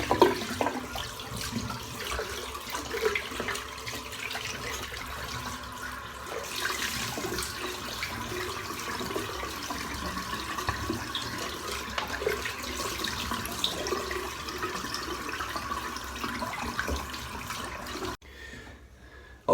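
Water rushes steadily from a tap while a bowl is rinsed out in a bathroom sink. It is a continuous, moderately loud splashing flow that stops abruptly near the end.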